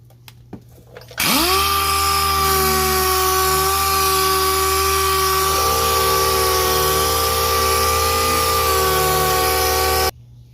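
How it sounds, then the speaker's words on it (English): A DA sander with 320 grit spins up sharply and runs steadily on a yellowed headlight lens, a loud sustained whine with a slight pitch drop as it bites, then it cuts off abruptly. "I'm gonna start with 320 on my DA sander."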